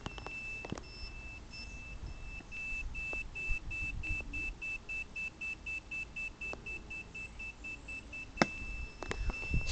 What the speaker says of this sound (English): you'll hear the inverter beep because of the panels being low on power